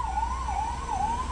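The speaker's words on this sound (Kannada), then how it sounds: "ಆಂಬುಲೆನ್ಸ್ ಹೋಗ್ತಾ ಇರ್ತದೆ" An ambulance siren passes through traffic on the road from Bengaluru to Nelamangala. It wails steadily, loud and close, rising and falling in smooth cycles.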